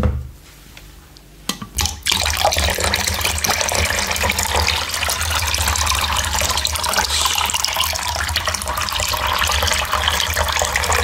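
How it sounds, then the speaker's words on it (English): After a few quiet clicks, water gushes steadily into a container, a loud continuous splashing pour up close that lasts to the end. "We are going to put some water over here."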